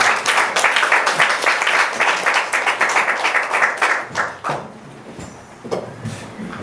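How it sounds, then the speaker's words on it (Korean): Applause from an audience at a healing-ministry symposium, a dense burst of many hands clapping for about four seconds that then thins into scattered claps and fades. "나올 때 큰 박수로 환영해 주시기 바랍니다"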